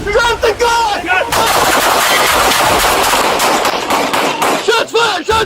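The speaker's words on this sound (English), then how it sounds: "Shots fired! Shots fired!" Gunshots in a police confrontation fired in a rapid continuous volley of loud cracks, close and dense for several seconds, while people shout before and after the burst.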